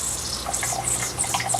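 Water runs out of a boiler feed line during a pressure test, a steady, moderately close rushing and splashing stream that continues evenly throughout, with a low steady hum underneath and no talking.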